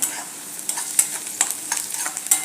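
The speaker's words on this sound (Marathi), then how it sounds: "आता इथे कांदा थोडा परतल्यावर मी इथे एक चार लसणाच्या पाकळ्या आणि एक छोटंसं आल्याचा तुकडा असं जाडसर चेचून घेतलंय ते याच्यात घालूया" Coarsely crushed garlic and a small piece of ginger go into onions frying in a pan for a tomato curry. Soft sizzling runs under quick, repeated stirring scrapes, close up and without speech.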